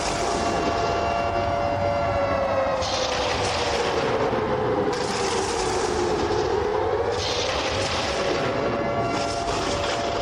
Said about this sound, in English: Let the siren play for the first time tonight.